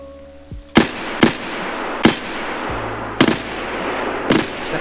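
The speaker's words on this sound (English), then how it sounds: "Yep, he's firing at me as well." Single sharp gunshots crack out in Escape from Tarkov, about six spaced-out reports over a few seconds, loud and close with a short echoing tail, alone with no talking.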